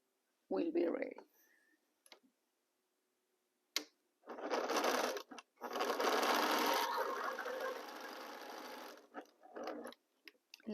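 A sewing machine stitches quilt rows together, running in a couple of long buzzing bursts with brief clicks and pauses between, loud and close.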